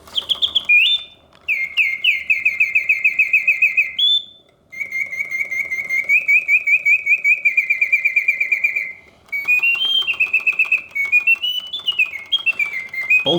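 A vintage Reuge double singing bird cage automaton whistles full-voiced mechanical birdsong, loud close trills and warbling phrases in several bursts separated by short pauses, with the mechanism running quietly beneath.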